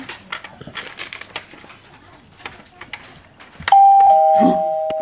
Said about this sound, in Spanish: Llama al timbre, aquí.